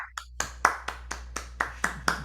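Hand claps after a blues song at a small live performance, about ten sharp claps at a steady, slightly uneven rhythm, close and clear over a faint low hum, like one person applauding.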